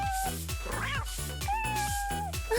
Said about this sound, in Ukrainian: Гарна кішка.